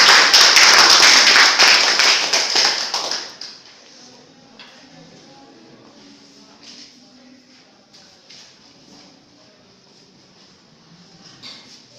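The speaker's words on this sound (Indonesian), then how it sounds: "Berikan tepuk tangan yang meriah kepada tim." An audience claps for a student team of accounting education students at a UNIMED Pancasila project showcase, with about three seconds of dense, loud applause that ends abruptly, followed by quiet room sounds and scattered taps.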